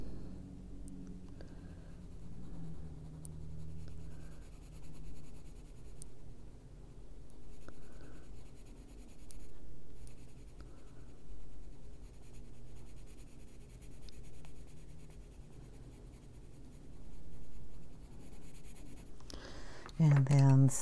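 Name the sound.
colored pencil coloring on paper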